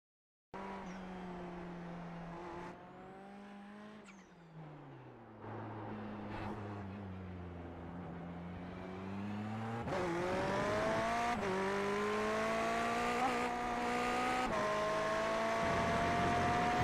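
A Ferrari GT3 drifting around a circuit in a racing video game: a loud, continuous engine note whose pitch rises and falls through gear changes and slides, with a hint of tire squeal and no talk.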